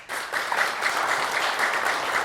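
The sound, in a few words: audience applause voting for Clair de Lune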